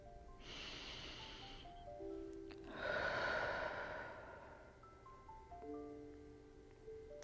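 During a guided meditation, a slow deep inhale is followed by a long, airy exhale, heard up close over soft sustained music tones.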